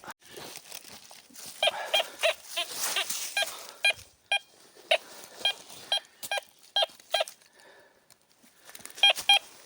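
A metal detector sweeping around old castle ruins gives repeated short electronic beeps in irregular bursts, clear and close over soft outdoor background noise.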